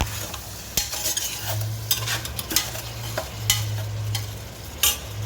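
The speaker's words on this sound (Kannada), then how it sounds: "ತರಕಾರಿಗಳು ಫ್ರೈ ಆಗ್ತಾವೆ" Mixed vegetables for a vegetable pulao fry in oil as a utensil stirs and scrapes through them, giving a steady close sizzle with repeated metallic clinks and scrapes.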